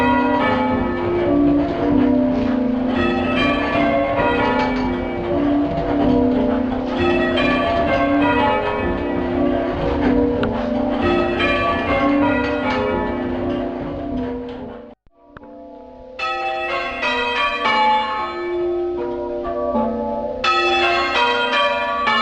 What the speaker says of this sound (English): the bells sound like when they're muffled on one stroke